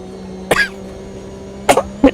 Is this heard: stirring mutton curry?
no